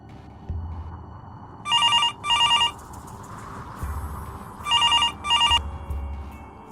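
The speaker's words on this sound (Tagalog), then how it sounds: "Tumunog ang cellphone ni Elian." A cellphone rings in two bursts of double electronic trills, each pair about a second long, sounding clear and close over a low background hum with no talk.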